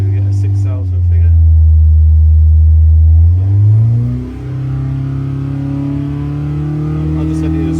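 A V8 Husky engine on a dyno holds a deep, loud drone, then sweeps upward in pitch as revs climb and settle into a steady high-rev roar.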